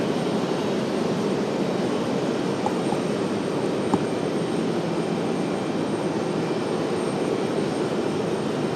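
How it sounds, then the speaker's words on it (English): A gray and white Republic Airways jet taxis out at RDU, its engines a steady broadband roar that holds level throughout, heard from some distance with no talk. "So we got our all gray, white, whatever you want to call it, Republic Airways making their way out."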